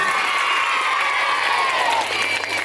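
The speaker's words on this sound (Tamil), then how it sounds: "எல்லாருக்கும் ஒரு முறை ஜோரா கைத்தட்டு பார்ப்போம்" Steady applause and cheering from a crowd of government school children, continuous and fairly loud throughout without pause.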